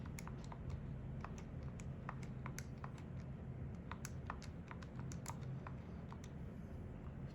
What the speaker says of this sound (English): Gotta type that in the calculator real fast.